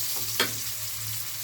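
Onion and dried anchovies frying in a pan for ginataang laing, a steady close sizzle with a brief stir or clink partway through.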